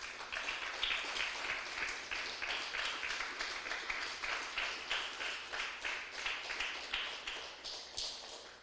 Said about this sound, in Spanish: Denle un aplauso fuerte al Señor, aleluya